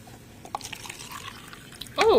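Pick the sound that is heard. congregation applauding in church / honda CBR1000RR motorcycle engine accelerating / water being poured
water being poured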